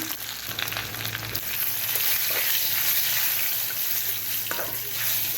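Steady close sizzling of dried chilies and garlic frying in a pan, a continuous crackling hiss that holds level throughout with no voices.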